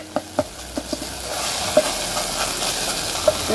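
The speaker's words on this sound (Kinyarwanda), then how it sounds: "Urabona ko inyanya zacu ziri kwenda gushya" Tomatoes and peanuts cooking in a pan, a soft continuous sizzle with several sharp clicks and scrapes of stirring spread through the few seconds.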